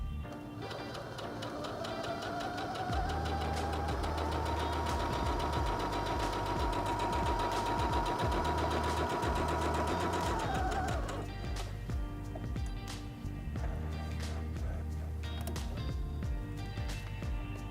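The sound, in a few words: Singer Heavy Duty 6805C sewing machine stitching fabric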